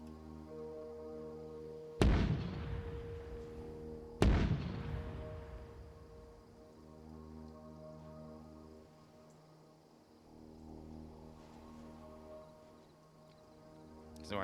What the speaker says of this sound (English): I'm gonna still fire the mortars on occasion.